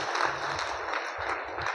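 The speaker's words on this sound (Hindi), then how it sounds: "एक ज़बरदस्त ताली होना चाहिए।" Audience applause for a speaker at a DXN business gathering, a brief burst of loose clapping from a crowd, fairly faint and even throughout.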